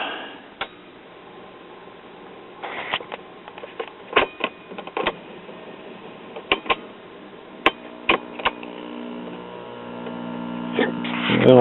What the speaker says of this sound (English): Well, I hear filter capacitor hum.